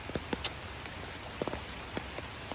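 Rain falls beside a pond near rice paddies, sparse drops tapping a surface in irregular, distinct ticks over a faint steady hiss, with no talk.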